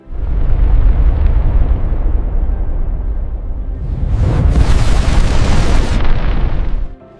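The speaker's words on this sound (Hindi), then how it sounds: "धमाका।" A massive asteroid impact explosion rendered as a documentary sound effect: a deep, loud, sustained rumbling roar that swells into a second, brighter blast before cutting off abruptly.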